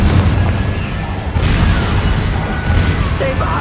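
Confringo blast spell fired in Hogwarts Legacy, a dull booming impact with crashing rumble, loud and dense against steady low game ambience.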